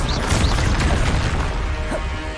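Confringo blasting spell exploding in the Hogwarts Legacy video game, a dense, sustained booming roar with crackling bursts and debris filling the whole moment, loud and without talking.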